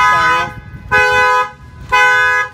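A motorhome's alarm system sounds three loud, close honking blasts in a steady on-off rhythm, each lasting about half a second with brief gaps between.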